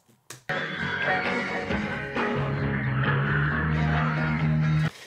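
Residual stem pulled from a live recording, with crowd noise and the band playing in a room, sounding like a distant room mic: a dense, continuous wash of music and audience that runs steadily for about five seconds.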